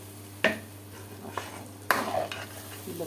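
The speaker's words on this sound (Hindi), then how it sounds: "और अब हमने इसमें सारा डाल दिया टमाटर और प्याज पीस के" Ground tomato and onion are stirred into frying ginger-garlic paste, with a few clacking spoon scrapes against the pan over a soft background sizzle and low hum.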